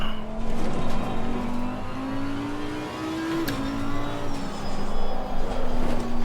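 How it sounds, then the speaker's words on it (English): Race car in Assetto Corsa Competizione grinding through corners with grip fading, a steady engine drone with tire squeal whining over it, holding a continuous, fairly loud tone that rises and dips slightly. "Wrestling the car around these corners. Can you hear it just squealing?"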